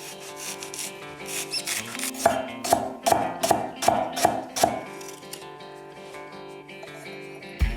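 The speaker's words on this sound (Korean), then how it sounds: "그 다음 파를 썰어줄 건데" Knife chopping green onions on a cutting board: a steady run of about eight crisp, close taps in the middle, with quieter scraping and board noise before and after.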